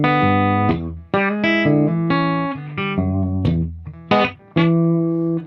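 An electric guitar played dry through a Fractal amp modeler with no reverb, ringing sustained chords and notes that shift every half second or so, loud and clean with sharp stops between some phrases.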